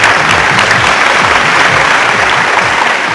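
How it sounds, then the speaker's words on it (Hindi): An audience bursts into loud, dense applause for Ali Zafar, clapping and crowd noise close and continuous for a few seconds with no talking. "तालियां Ali Zafar के लिए।"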